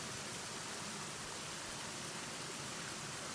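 A waterfall in a forest setting gives off a dense, steady rush of falling water, uniform and unbroken throughout with no other sounds on top.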